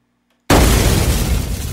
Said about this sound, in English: That's an airy, sort of glassy kind of explosion.